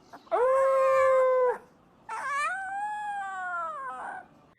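A dog gives two drawn-out howls, the first steady and loud, the second slightly lower and wavering, separated by a brief pause, close by and without any talking.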